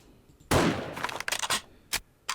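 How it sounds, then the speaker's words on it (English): Modded automatic weapon firing in the zombie survival game 7 Days to Die: a loud burst of rapid shots, then several shorter separate bursts with brief gaps between. "every time we fire, it automatically reloads"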